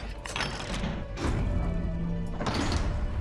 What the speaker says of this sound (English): And the gnomes will unlock the door.